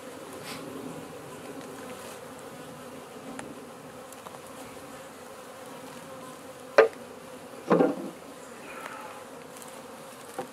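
Honey bees buzzing around an open hive during a shrinking swarm, a steady low hum of many bees close by, with a couple of sharp knocks and clatters of hive equipment near the end.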